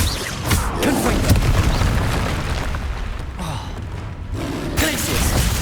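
Confringo fire spell blasts in the Hogwarts Legacy video game: booming bursts over dense, busy battle audio that carries on for several seconds.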